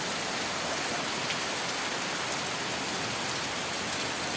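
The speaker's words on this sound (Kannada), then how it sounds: "ಇವತ್ತು ಫುಲ್ ಜೋರಾಗಿ ಮಳೆ ಬಂತು" Heavy downpour of the year's first rain drums steadily and loudly on surfaces near coffee plants, an unbroken dense hiss throughout with no voices.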